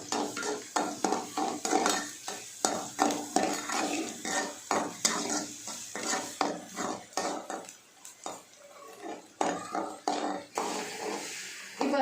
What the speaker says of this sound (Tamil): வெங்காயம் வந்து ரொம்ப ஃப்ரை ஆகக்கூடாது, லைட்டாக ஃப்ரை ஆனே போதுமோ